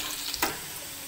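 Garlic and ginger sizzle steadily in hot oil for a moment, with one brief stirring scrape of a spoon partway through, close and fairly quiet.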